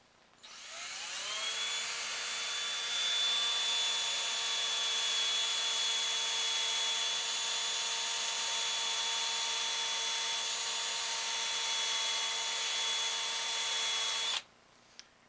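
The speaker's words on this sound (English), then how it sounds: "You chuck that part into your drill, and you tighten your plunger head on there." A handheld electric drill spins up and runs steadily for about thirteen seconds with a whining, high-pitched hum while shaping a SnapBow plunger head, then cuts off abruptly; close and loud, with no talking.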